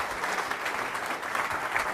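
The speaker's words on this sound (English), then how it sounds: "Let's give them a round of applause." An audience claps for a panel at a political convention event, a brief burst of dense, steady applause that carries through to the end.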